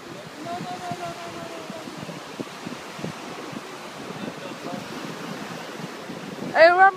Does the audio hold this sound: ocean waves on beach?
yes